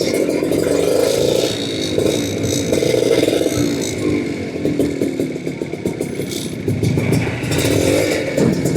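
A motorcycle engine drones and revs steadily up close while weaving through a traffic jam, with wind buffeting and surrounding road clatter.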